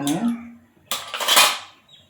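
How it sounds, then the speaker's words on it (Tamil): A metal pan clanks down onto a stove with a short scraping rattle, close by, after a brief metallic knock. "ஒரு சட்டி வச்சுக்கிறேன்"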